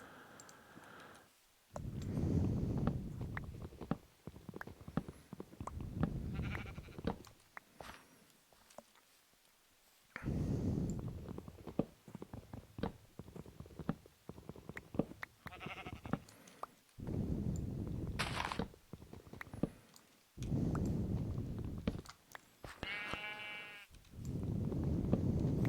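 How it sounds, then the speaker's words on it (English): Sheep bleats from Minecraft ring out a few times over continuous game clicking and ambient noise, with short wavering calls standing out briefly amid busy, close sound. "Sheep scared me when I ate that grass."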